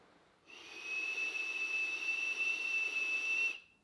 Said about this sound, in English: it's got a bit of a whistle to that airflow